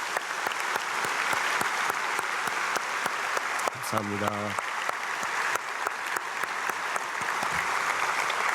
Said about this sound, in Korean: 우리 장로님과 권사님 또 가정에 크게 박수로 축복하겠습니다